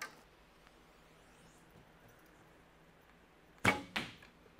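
A restored recurve bow looses an arrow after a quiet stretch, giving a sharp snap and whoosh that a second fainter thud or release follows a moment later.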